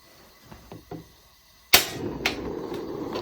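A sharp click of an igniter followed by a steady roaring gas flame from a Campingaz Camp Bistro 3 camping stove, close by, after a few faint handling knocks.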